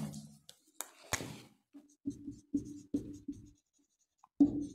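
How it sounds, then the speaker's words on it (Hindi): A pen scratches out notes during a Hindi-language agriculture lecture, with several short scribbling strokes close by in quick bursts and quiet gaps between them. "लिख लेते हैं"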